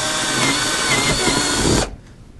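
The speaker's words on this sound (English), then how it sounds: "Next we'll take the drill and we'll drill the first hole in the center of the cross." A power drill whines steadily and loudly for almost two seconds while drilling a hole in cork for model railroad track, then stops abruptly, leaving a quiet room tone.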